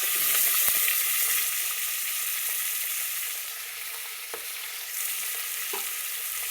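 Onion and green chili sizzle steadily in hot oil in a pan, a continuous close frying hiss with a few soft stirring knocks and no talking.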